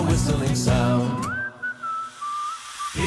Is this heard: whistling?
yes